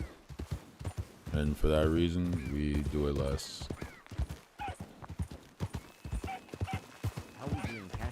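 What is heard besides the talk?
horse hooves while riding, from a video game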